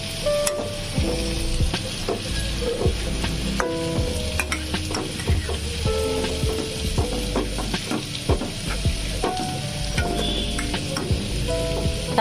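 Mashed flat bean paste being stirred and fried in a pan, a steady sizzle with repeated scraping and clinking of the spoon against the pan, close and continuous.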